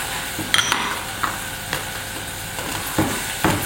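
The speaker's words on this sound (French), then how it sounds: "un peu d'huile dans ma casserole. Je préchauffe. Je rajoute les oignons préalablement ciselés," Finely chopped onions sizzle in preheated oil in a saucepan for a vegetarian Provençal chard dish, a steady hiss broken by a few sharp clicks of stirring, close and moderately loud.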